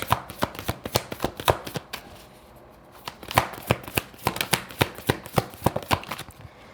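Playing cards are shuffled in quick, rhythmic riffles and taps, close up and distinct, with a short pause partway through before the rapid shuffling resumes, and no speech.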